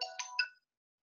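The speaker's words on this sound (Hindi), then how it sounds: "एक सेकेंड, भैया का फोन आ रहा है।" A mobile phone ringtone for an incoming call plays a short bright chiming phrase of two or three notes, then cuts off into silence.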